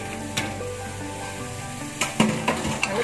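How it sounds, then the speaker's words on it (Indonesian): Fried onions added to braised pork simmering in soy sauce and rock sugar, a loud steady close sizzle with several sharp clatters of a utensil against the pan as it is stirred. "Lalu kita masukkan bawang yang tadi kita goreng"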